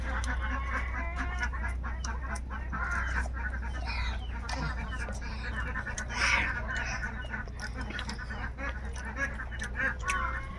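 Village ducks on a cold, foggy winter day give a scattered flurry of quacks at middle distance over a low background hum, with faint voices now and then.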